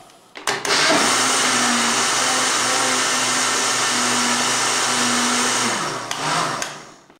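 A kitchen blender whirs steadily for several seconds, mixing a vanilla milkshake with vanilla sugar, then spins down, loud and close with no talking over it.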